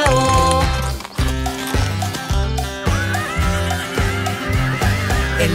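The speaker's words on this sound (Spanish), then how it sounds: "Y en la granja tenía un caballo" A cartoon horse whinnies within a Spanish-language children's farm song about Old MacDonald, riding over bouncy instrumental backing with a steady beat and melodic accompaniment throughout.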